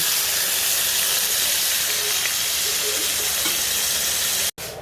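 Pork sticks frying in hot oil give a steady, close, even sizzle and hiss that runs without break, with no talking, and cut off by a brief dropout near the end.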